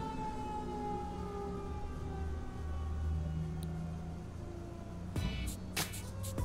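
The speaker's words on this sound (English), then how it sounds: "Here comes the siren." Emergency siren wailing in a driving game scene, rising and falling tones sweeping steadily under a low engine rumble, with a few sharp clanks and bangs near the end and no talking.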